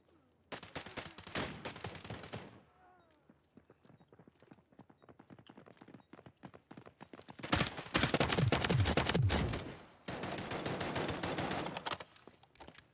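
Gunfire in the video game Delta Force, bursts of rapid shots with a long dense stretch near the middle and another sustained burst after, with quieter scattered shots between.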